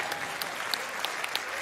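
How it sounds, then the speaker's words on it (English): Audience applause after someone says they nearly reached every goal within a year, a brief patter of scattered claps at moderate distance, fairly faint and steady across the moment with a few sharper individual claps standing out. "Y'all can clap for that."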